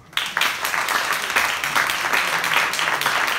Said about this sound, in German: gerne nochmal einen Applaus